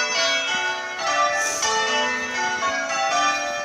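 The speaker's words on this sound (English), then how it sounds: "can you hear those bells?" Church bells ring continuously and loudly inside a church, overlapping peals sustaining and layering with no talk over them.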